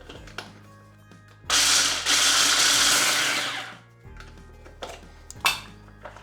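Pistachios are ground in an electric grinder in one loud whirring burst of about two and a half seconds, with a few clinks and knocks of handling before and after.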